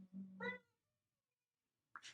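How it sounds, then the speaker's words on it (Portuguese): Cats fighting indoors: a short growling yowl rising into a loud meow, a brief silence, then another sharp hissing cry. "Pequena pausa aqui para interromper briga entre os gatos"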